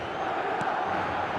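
Stadium crowd roar from the eFootball video game, a steady, dense wash of cheering and noise that holds at an even level throughout without a break.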